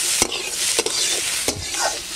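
Vegetables for chicken chow mein fry in a pan with a bright, steady sizzle, punctuated by three distinct scraping stirs of a spatula; close and fairly loud, with no speech.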